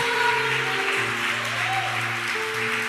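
Church congregation applauding, a steady wash of clapping heard alongside sustained keyboard or organ music tones throughout.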